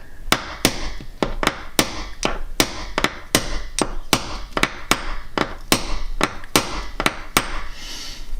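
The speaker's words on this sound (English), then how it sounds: "I'm using a center punch right here, and that's what we're going to use to knock these in." A hammer drives a center punch to knock pins into grain equipment: about fifteen sharp metallic strikes at a steady, fairly quick rhythm, close and clear.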